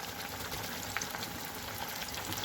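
Chicken pieces fry in hot oil, a close, steady crackling sizzle with no talk over it.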